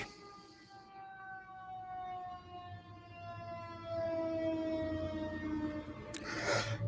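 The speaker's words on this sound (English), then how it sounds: "Like I say, sorry about the sirens." An emergency siren on a city street wails steadily and slowly drops in pitch as it passes, over low traffic rumble, ending in a brief noisy burst.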